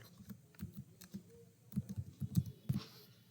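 Typing a project name on a computer keyboard, irregular bursts of soft, close key clicks that cluster into quicker runs near the end, quiet and alone.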